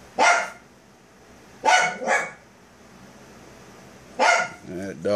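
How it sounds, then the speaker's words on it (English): A dog barks in three bursts, the middle one a quick double bark, at moderate distance against a quiet background with a faint hum. "That dog ain't gonna quit barking."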